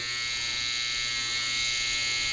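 Cheap electric hair clippers buzz in a steady, loud, unbroken drone with a bright, high-pitched whine, heard alone at close range.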